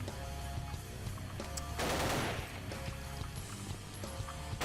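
Rapid gunfire bursts from the Paranoia video game on Dreamcast, a loud dense volley peaking mid-clip over continuous game sound and music, with no talking.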